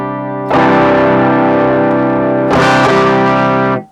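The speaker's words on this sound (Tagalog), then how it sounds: "Kasi nga distorted na dapat. Distortion na tong PV." A heavily distorted electric guitar runs through an M-Vave Tank G multi-effects unit, with two loud sustained strummed chords ringing close and saturated, the second struck about two seconds after the first, and no voice over them.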